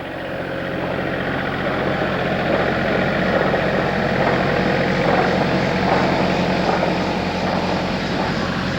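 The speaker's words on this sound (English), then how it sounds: "maybe we'll take a break while the tractor goes by here" A tractor driving past on a rural trail entrance in Jefferson County, Iowa, its steady engine drone and low harmonic hum loud and continuous throughout, with no talk.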